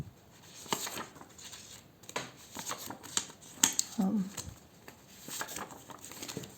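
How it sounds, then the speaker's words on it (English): Thin paper tarot cards shuffled by hand, soft riffling and papery flicks in irregular bursts, close and fairly quiet, with faint murmured talk in places. "I have already shuffled those cards."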